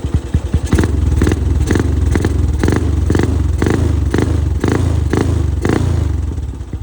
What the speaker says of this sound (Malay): Enjin pun senyap lagi. Kita dengar bunyi enjin.